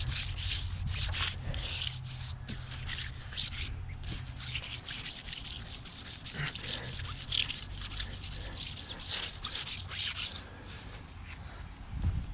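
Hand wet sanding on a jetski hull gives a steady, soft rubbing and scraping, a continuous close swish of wet abrasive paper over the surface with slight variations in stroke.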